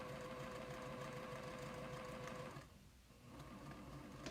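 A sewing machine stitches a quilt piecing seam straight through an intersection, running in a steady quiet whir that pauses briefly midway and then resumes.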